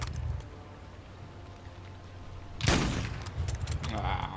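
Gunfire in the Modern Warfare 3 campaign bursts out loudly after a quiet stretch, a sharp blast followed by a ragged, echoing volley with lingering noise.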